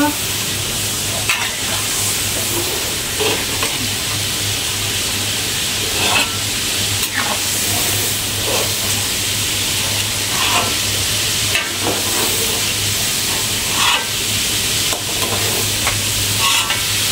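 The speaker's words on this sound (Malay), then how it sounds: "Kita masakkan udang dia." Loud, continuous sizzle and crackle of shrimp frying in a hot pan, with intermittent stirring scrapes and a low steady hum beneath.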